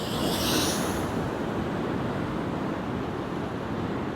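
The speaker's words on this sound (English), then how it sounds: "how far out the waves are breaking" Ocean waves break far out from a stony, rocky shore in a steady, dense wash of surf, loud and continuous, with gusts of wind buffeting the microphone.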